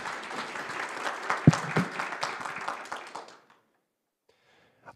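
Applause from an audience at an awards gala, a dense steady wash of many hands clapping that carries on for several seconds, then stops abruptly and gives way to near silence.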